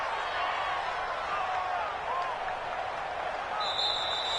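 A stadium crowd in a PS4 American football video game roars as a steady, broad wash of cheering noise, with a commentator talking over it throughout.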